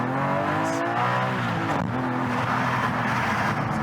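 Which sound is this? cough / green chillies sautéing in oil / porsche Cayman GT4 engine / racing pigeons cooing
porsche Cayman GT4 engine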